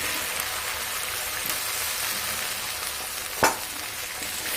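Fried potatoes go into a hot oily spice masala for a vegetarian papad curry, setting off a dense continuous sizzle with one brief louder clatter near the end; close and steady, without talk.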